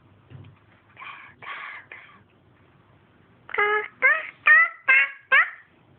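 A voice imitates a crow's caw: three softer calls, a pause, then five louder, rhythmic caws close by, in a Tamil-speaking home.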